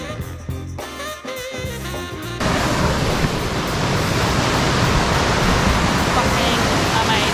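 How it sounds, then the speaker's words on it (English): A rainforest waterfall in Australia rushes in a loud, steady broadband roar that takes over after a short burst of other sound at the start and continues unbroken to the end. "rainforest waterfall"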